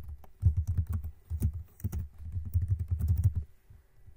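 Rapid bursts of keystrokes on a computer keyboard, typed in quick uneven runs with short pauses between words, close and fairly loud with no voices.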